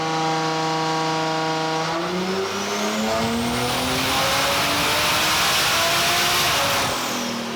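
A stock-engine BMW M3 built for around 1,000 hp revs hard on a dyno and climbs steadily in pitch, winding up to a loud, sustained high-rpm roar, with no talking.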